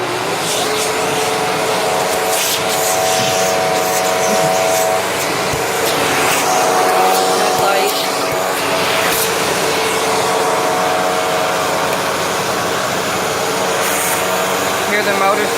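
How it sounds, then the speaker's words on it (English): A Hoover twin chamber vacuum cleaner running continuously with a steady whirring motor drone and airflow hiss, close and loud, while a person talks over it. "See, to me, this vacuum was not that loud."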